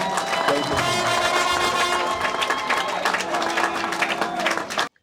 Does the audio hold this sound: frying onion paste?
no